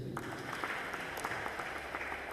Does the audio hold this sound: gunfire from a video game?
no